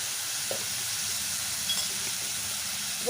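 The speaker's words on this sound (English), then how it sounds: "I stir this very well" Vegetable curry being stirred in a hot pan, a steady soft sizzle and hiss running throughout with a few faint scrapes, close and fairly quiet, no voices.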